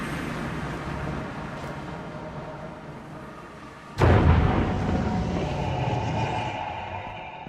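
A void vortex explosion in the video game Minecraft: after a low, steady hum, a single sharp, loud blast hits suddenly, followed by a lingering rumbling roar that slowly fades.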